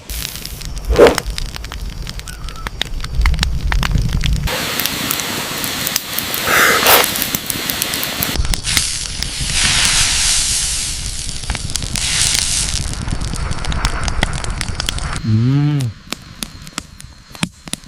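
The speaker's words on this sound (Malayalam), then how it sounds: "ഇനി ഇവനെ എടുത്ത് നമുക്ക് തീയുടെ മേലെ വെക്കാം" Wild boar meat grilling over an open wood fire, a steady loud hiss and crackle of sizzling and flames running throughout, with a brief whistling tone near the end.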